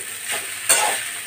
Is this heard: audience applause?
no